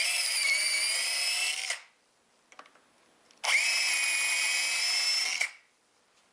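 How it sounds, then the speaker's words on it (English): A power drill bores a wider hole for a woodworking vise screw shank, running in two steady high-pitched bursts of about two seconds each, separated by a short quiet pause with faint handling clicks. "I've got the correct size bit and I'll just drill in about 1 inch"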